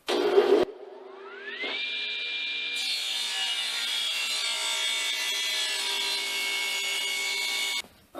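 A table saw spins up with a rising whine, then cuts thin wooden strips in one long steady, close-up rasp before the blade noise drops away at the end.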